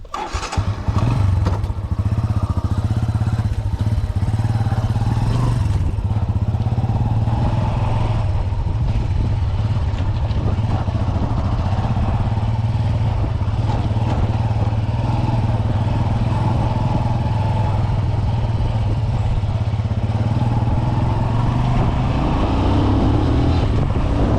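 A Bajaj Boxer motorcycle rides along steadily, its engine drone loud and continuous throughout with occasional bumps and thuds from the road, heading off-road toward a pond.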